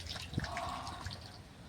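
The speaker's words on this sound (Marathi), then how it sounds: "हे पाणी चिखलाचं" Muddy water in a flooded rice paddy during rice transplanting, with faint drips and small splashes running through the short stretch, soft and close by, with no talking.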